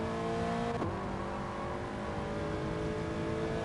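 A Toyota GT86 race car in Gran Turismo Sport lapping Suzuka, its engine droning steadily with a brief shift in pitch as it brakes into a corner, loud and close with no talk.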